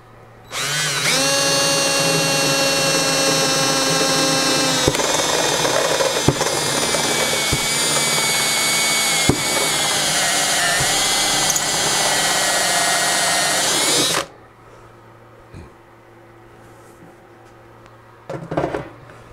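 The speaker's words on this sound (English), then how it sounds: "You'll need to drill a hole first" A loud power drill whines steadily for about fourteen seconds, pitch wavering as it bores, then stops abruptly leaving quiet clatter.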